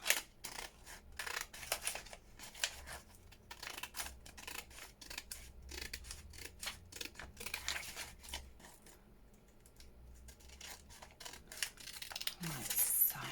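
Scissors snip repeatedly around scraps of leftover packaging for junk journal ephemera, a steady run of close, crisp cuts with paper rustling between strokes and a brief crinkle near the end.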